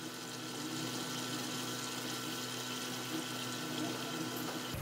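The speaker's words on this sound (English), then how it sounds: "Okay, the sauce is boiling." Light soy sauce simmering in a pan gives a steady, continuous bubbling hiss with a constant low hum throughout, close and even, with no talking.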